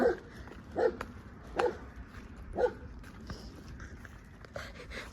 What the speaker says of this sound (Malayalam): അവൻ നമ്മളെ കണ്ടിട്ട് കിടന്ന് കുരയ്ക്കുന്നത്